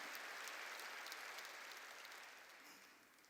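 Church congregation applauding during a Wednesday worship service, a broad steady wash of clapping that slowly fades toward the end.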